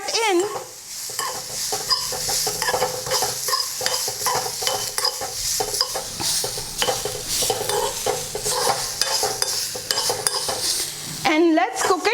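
Radish and Kashmiri red chili powder get stirred into sizzling mustard seeds in a pan. A steady sizzle runs throughout, broken by repeated scraping strokes of a spoon against the pan, close and fairly loud.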